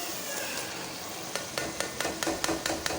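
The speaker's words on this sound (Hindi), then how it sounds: "उसके बाद मैंने 2 टमाटर डाल रही हूँ" Chopped tomatoes go into a pan of frying aloo anday masala, and a steady sizzle runs under a series of quick, close stirring taps and scrapes, with no voices.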